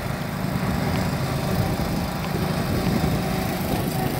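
Small-engine mini tractors race at an outdoor show outside a diner, their engines droning steadily and fairly loud throughout with a rough, buzzing low rumble and no pauses.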